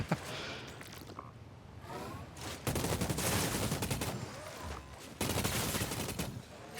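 Rapid gunfire in the video game Outriders, dense bursts of automatic shots in loud stretches broken by brief lulls, alone without talk.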